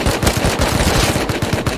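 Rapid automatic gunfire from the survival video game Rust, a dense burst of roughly a dozen quick shots in steady rhythm, loud and close with no talk over it.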